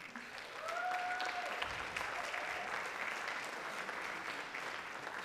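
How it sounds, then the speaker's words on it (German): A crowd applauds steadily for several seconds, dense clapping at a fairly even level, with faint whistles rising briefly near the start. "Applaus bitte."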